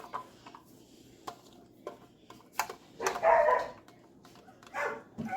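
Dogs bark indoors in a home kitchen while salsa is being made for canning, two short bursts of barking standing out over faint clatter of pots and utensils.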